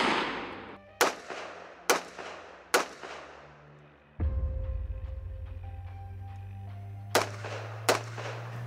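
Sharp, loud gunshots from a Foxtrot Mike FM-15 folding carbine fired from a supported position outdoors, several spaced single shots with ringing decay, a lull with a sustained tone, then two more shots.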